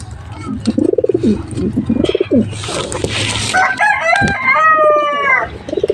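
Pigeons cooing close by in low, throaty bursts, with a rooster crowing loudly partway through among other bird noises.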